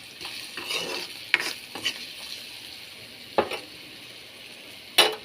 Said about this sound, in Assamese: পিঁয়াজখিনি ৰঙচুৱা হোৱালৈকে ভাজি ল'ম।